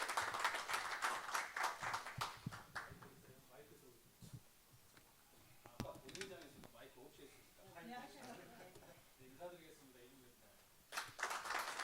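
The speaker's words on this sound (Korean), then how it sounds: "박수로 환영해 주시기 바랍니다." Audience clapping at a city council debate forum on cycling in Seongnam, brief bursts of applause at the start and end framing a stretch of speech in a hall.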